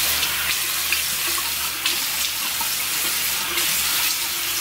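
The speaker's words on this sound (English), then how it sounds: "now it's time to rinse off all of this soap after I nearly let it dry completely on" A faucet runs steadily with water splashing in a sink while someone rinses soap off their face, a continuous loud rushing wash throughout.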